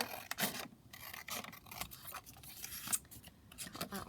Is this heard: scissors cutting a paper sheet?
yes